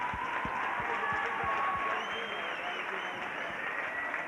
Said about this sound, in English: If you please give her a warm welcome applause